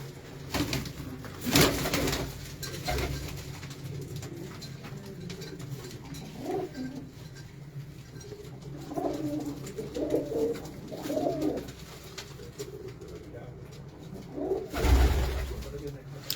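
Pigeons cooing on a rooftop in Multan, soft intermittent coos heard close amid low background noise, with people talking now and then and a brief rustle or flap of wings.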